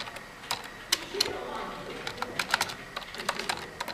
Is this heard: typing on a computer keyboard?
yes